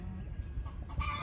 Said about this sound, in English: I hear a chicken had laid an egg.